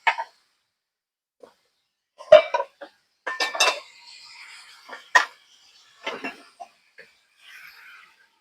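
Sparse metallic clinks and knocks of a lid being handled and set onto a cooking pot, a handful of separate clatters spread across an otherwise quiet stretch.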